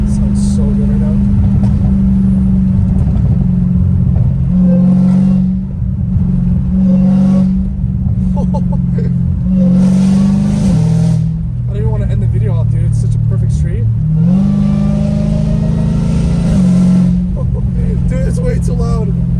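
A catless Dodge Hellcat Redeye engine roars steadily from inside the car as it accelerates on a highway, with deep rising and falling drone across shifts and someone talking excitedly over it.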